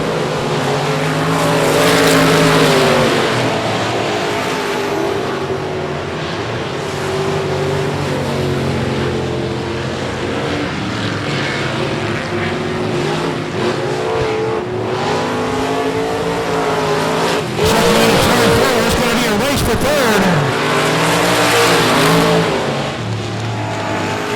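Pure Stock race cars lap I-37 Speedway on the final lap, engines roaring loud and steady, rising and falling as they pass close by with no break in the noise.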